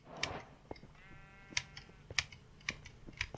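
Sheep in a survival video game bleat in several short, separate calls, each distinct and fairly close, with light clicking between them and no one talking.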